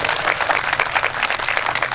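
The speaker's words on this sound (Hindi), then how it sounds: "मैं चाहता हूँ आप इन सब लोगों के लिए भरपूर तालियां बजाइए।" Dense, steady applause from a poetry-gathering audience honoring senior citizens at a mushaira, continuous broadband clapping throughout without a break.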